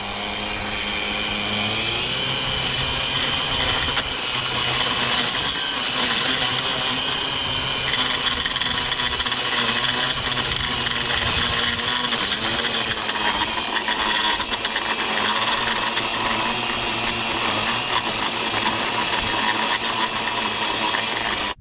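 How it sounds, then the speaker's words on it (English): A STIHL FCA 140 battery lawn edger whines close and loud, its motor climbing from low speed toward full speed in a steady, continuous high-pitched drone. "So here's the low speed trigger pull, and then I'll pull a little harder, and then I'll max it out."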